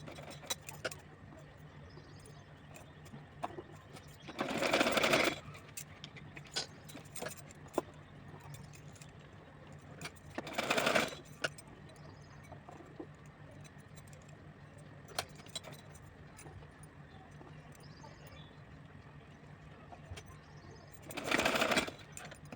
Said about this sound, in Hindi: इस तरह से इस पट्टी को सिल करके मैंने कंप्लीट कर दिया है